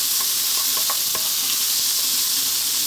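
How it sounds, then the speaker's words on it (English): Ginger and garlic stir-fry over super high heat, browning and blackening in a pan with a loud continuous sizzle and a few sharp scrapes and tosses, no voices. "As you can see, we're browning and blackening the ginger already and the garlic"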